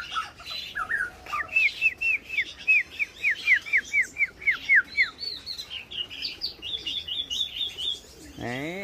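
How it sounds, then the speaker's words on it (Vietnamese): Close, lively song from a tame tiểu mi songbird: a long string of quick repeated whistled notes shifts into mixed chirps and twitters, the varied phrases continuing steadily, with a brief different sweeping sound at the very end. "Đó, rất nhiều giọng luôn."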